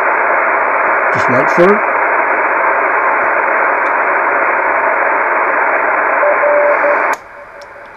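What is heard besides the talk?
70cm EME radio signal in noise with preamp on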